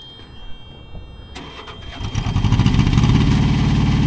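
A truck engine cranks with a whirring starter, catches after a couple of seconds and rises into a loud, rough, steady run close by, with no talking over it.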